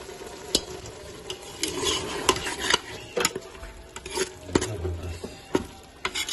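Beef keema with peas frying in ghee, a soft, steady sizzle broken by sharp clacks and scrapes as a spoon stirs the pan up close, with no voices.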